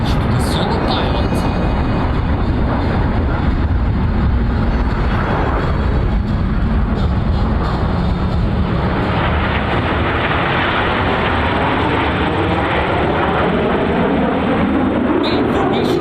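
Italian Frecce Tricolori solo jet at a New York airshow, a loud continuous roar sweeping past, with engine noise shifting in pitch as the aircraft moves overhead, steady throughout without pauses.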